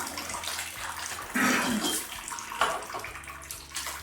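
Water running from a Kangen water machine into a container, a continuous splashing flow with a louder surge partway through, close by and without talk.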